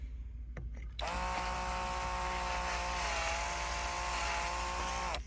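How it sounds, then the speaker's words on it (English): A power drill whirs steadily while boring a hole in wood for a wooden Christmas tree. The motor kicks in abruptly after a moment of quiet and then runs at a constant, high, close pitch for several seconds. "I just drill the hole using this thing right there."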